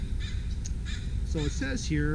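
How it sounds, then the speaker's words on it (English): A crow caws several times in the background outdoors at a veterans' convention, a few harsh repeated calls at moderate distance heard under a person talking. "you can also hear the crow in the background"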